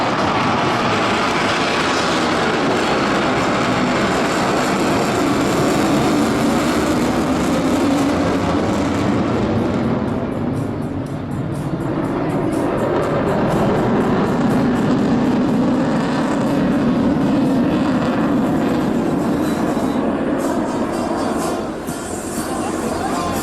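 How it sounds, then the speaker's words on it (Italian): Panavia Tornado jet with MK 103 engines making a tight turn at a seaside air show, a loud continuous roar that swells and shifts steadily as the aircraft passes close in front. "Motori MK 103 che spingono il Tornado nell'effettuazione di questa virata Schneider strettissima di fronte a noi"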